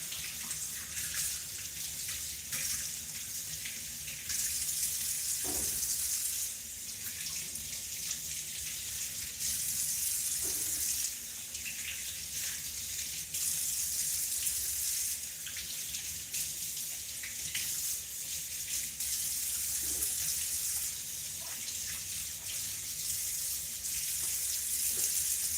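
Tap water runs steadily into a kitchen sink to soak freshly harvested vegetables such as yellow squash, a continuous close splashing rush with slight changes in flow.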